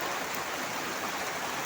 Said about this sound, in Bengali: শুক্রবারের দিন কি বৃষ্টি নামতেছে গাইস